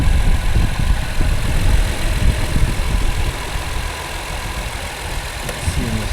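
A 2019 Jeep Wrangler engine idles under the open hood, a steady close mechanical hum with a faint ticking texture running evenly throughout, no voices.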